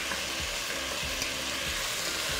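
Beans and corn being stirred gently in a frying pan during baked Mexican rice prep, a steady low sizzle under soft spoon scrapes and stirring knocks, close and continuous with no talking.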